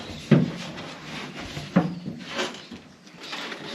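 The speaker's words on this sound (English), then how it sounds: "I'll start pulling this glue off the doors." Old glue being pulled off the doors of a Holden HZ One Tonner during headliner removal, two sharp close tearing knocks followed by softer scraping and rustling, no talk.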